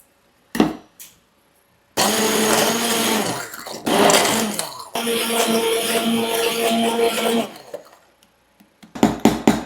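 A kitchen blender purees cooked beans and carrot for pasta fagioli in loud, close bursts, starting and stopping several times with a brief pause mid-run, with short noises around the bursts.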